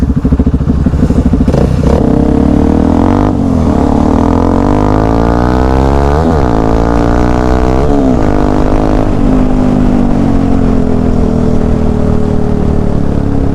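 A Kawasaki KLX 230 motorcycle is ridden off-road on a hidden forest route in Charmadi, its engine loud and close, revving up and down repeatedly with rising and falling pitch and some clattering.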